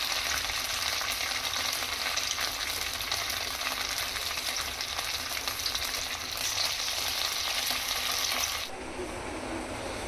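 Chicken kofta balls sizzle and crackle steadily in hot oil, close and continuous, then drop to a softer sizzle near the end.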